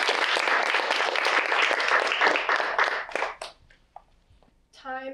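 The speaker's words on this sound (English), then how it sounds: "please give a big round of applause for Josie." A student audience at a public speaking mini talk night gives a steady round of applause for several seconds. It breaks off into a few stray claps and silence, and then a voice starts talking.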